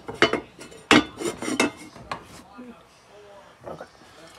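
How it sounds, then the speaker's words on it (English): Lid set onto a heavy heat-retaining pot of barbecue country ribs, then the pot slid back into the oven: close clanks and scrapes of cookware, a couple of sharper clinks, followed by quieter handling. "I'm gonna put the top on it and pop it back in the oven"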